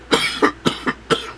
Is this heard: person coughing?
yes